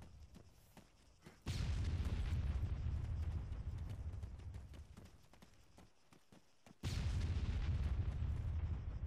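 Gunfire and explosions from a battle in the military shooter game Arma III: dense, rumbling booms and crackling fire sustained throughout, with a brief lull before a second heavy burst, no talk.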